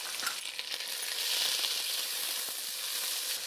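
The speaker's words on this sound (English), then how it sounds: "You add half a cup of chopped tomatoes," Chopped tomatoes tipped into a hot frying mixture in a home kitchen pan, giving a steady, fairly quiet sizzle with some crackle and small taps, continuous with no talking.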